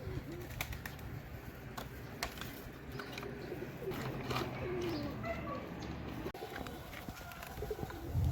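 Desi red-spotted pigeons coo repeatedly in low, throaty murmurs against a busy background of rustling and scattered bird noises, with the cooing steady throughout.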